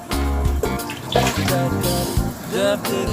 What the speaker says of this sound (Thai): เราก็จะมาใส่น้ำนะครับ